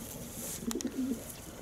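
A male racing pigeon from a Romanian racing loft gives a short run of soft, low coos in the middle of the clip, heard close against a steady background hiss.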